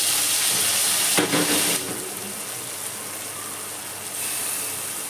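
A home-cooked masala paste of boiled, fried and ground spices sizzles steadily in a pan, loud broadband frying hiss with a brief stir-like burst early on, continuing alone without talk.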